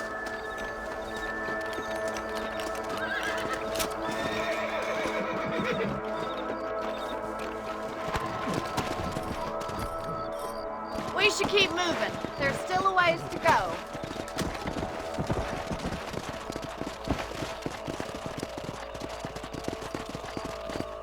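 Horses in Red Dead Redemption trotting with steady clip-clop hoofbeats under ambient music, growing busier and louder midway, while characters talk over the riding.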